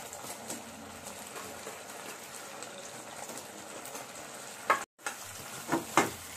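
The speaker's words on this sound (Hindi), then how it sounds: "इसे हम अच्छे से मिक्स करेंगे" Veg Manchurian is stirred and fried in a pan with chilli, salt and food colouring, a soft continuous sizzle overlaid with scraping stir strokes, a brief cut near the end, then a few sharper clinks.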